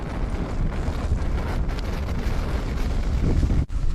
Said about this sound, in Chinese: 这风越刮越大了